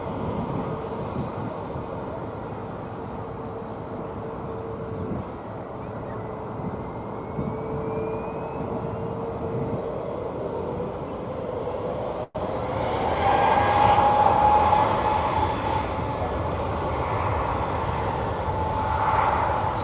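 A Frontier Airlines jet takes off at Dallas Fort Worth Airport with a sustained engine roar that grows louder partway through. A person talks over it.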